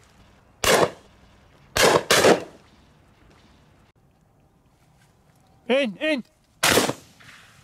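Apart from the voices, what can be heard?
shotgun shots by hunters duck shooting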